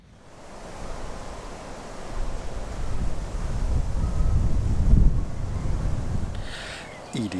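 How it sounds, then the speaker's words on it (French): Wind gusting steadily beside a river during a carp fishing session, a broad rushing roar that swells louder toward the middle and buffets the microphone, with a brief clatter near the end. "en plus il y a du vent, j'espère que vous allez m'entendre"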